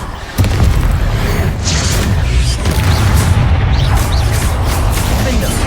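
A Confringo blasting spell in Hogwarts Legacy erupts with a sudden heavy boom, then a loud, sustained low rumble of explosions and crashing debris that rolls on for several seconds.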